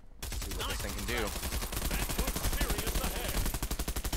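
An AUG rifle in Bullet Run fires a long sustained automatic burst of rapid, evenly spaced shots, loud and close, with a person talking over the start of the firing.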